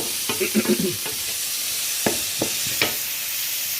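Green chilies slit down the middle fry in a pan for a river fish curry, a soft steady sizzle with a quick cluster of stirring taps early on and a few isolated scrapes after, no talk.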